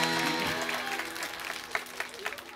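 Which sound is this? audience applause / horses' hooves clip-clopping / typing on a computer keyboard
audience applause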